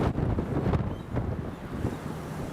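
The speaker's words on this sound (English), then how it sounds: "Look at that wind." Strong gusting wind from Storm Isha buffets the microphone at Newcastle Airport, a loud, continuous roar with rushing surges and no voices.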